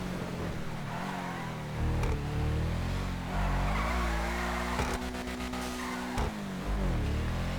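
A new tuner car from the Los Santos Tuners update in GTA 5 Online drives hard, its engine revving loudly and steadily through shifts while tires squeal and skid in several bursts, with no talk.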